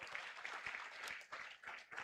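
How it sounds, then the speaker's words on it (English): Conference delegates clapping at an international curriculum development conference, a steady, moderate round of applause from a modest crowd that fills the whole moment, with no talk over it. "So let's clap for ourselves."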